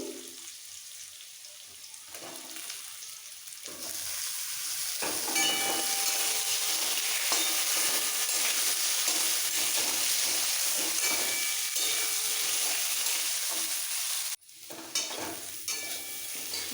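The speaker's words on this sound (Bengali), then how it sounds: "আলু ভাজা হয়ে গেছে দিয়ে দিচ্ছি বেগুন" Potatoes frying in a pan with salt and turmeric as eggplant is added, a loud, continuous sizzle that swells after a few quiet seconds, with stirring scrapes and a short dip in the hiss near the end.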